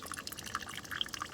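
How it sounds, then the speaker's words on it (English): Water trickles and drips from a leak in a 1966 Plymouth Fury gas tank that has been filled with water, faint soft splashes and small droplet plinks heard close up. "filled up the tank with water and found a leak right there"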